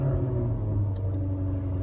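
Jaguar F-Type V8 with all-wheel drive idling just after startup, a deep, steady rumble close by with a low throb and no talking.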